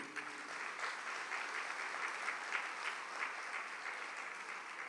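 Sustained applause from an audience at a Catholic talk on family life, steady dense clapping filling the whole stretch at an even level with no voices over it.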